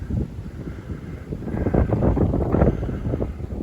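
Strong gusty wind blows across the microphone beside the Allegheny River on a blustery February day, a steady roaring rumble that swells louder in the second half with no voices.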